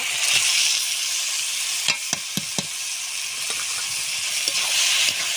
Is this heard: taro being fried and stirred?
yes